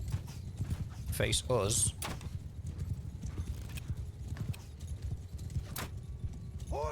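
Horses gallop in Mount & Blade II: Bannerlord, a steady clip-clop of hooves running under battle noise, with a brief whinny and a voice speaking early on.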